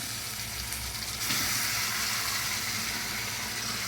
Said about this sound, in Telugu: ఇలాంటప్పుడు మనం మటన్ ఇలాగ యాడ్ చేసుకోవాలి.